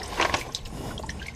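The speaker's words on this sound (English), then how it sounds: "the head of water from the check valve to the top of the wall all comes back down into the pit." Water from the head of pipe above a sump pump check valve drains back down into the sump pit, a close trickling and splashing flow that runs steadily throughout, slightly stronger at the start.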